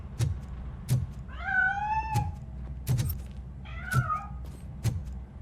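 A cat meows in the video game RoboCop: Rogue City, two drawn-out wavering meows over a dull, steady ambient background punctuated by regular sharp clicks or footstep-like knocks.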